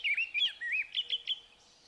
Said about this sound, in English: Northern house wrens continue singing, and the distant whistles of the western meadowlarks echo against the badlands.